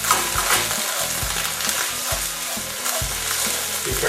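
Tomato paste sizzles and spatters in a very hot frying pan while a utensil scrapes it around in repeated low strokes; the steady frying hiss stays close and fairly loud throughout, with no talk.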